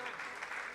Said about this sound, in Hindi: देखो, आपकी तालियां कम नहीं पड़ना चाहिए